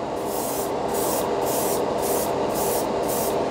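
A can of Tamiya primer sprays with a loud, close, continuous hiss that pulses slightly in strength, with no voices.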